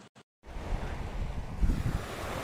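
Surf and wind on Miami Beach, Jamaica: a steady broadband wash of ocean waves with gusty wind buffeting the microphone, swelling slightly louder near the end, after a brief near-silent start.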